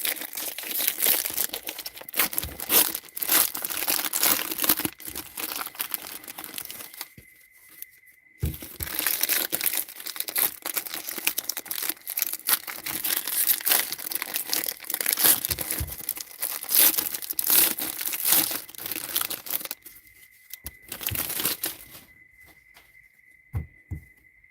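Foil wrapper of a 2024 Bowman Draft trading card pack being crinkled and torn open close up, in long dense bursts of rustling with a couple of short pauses and no talking.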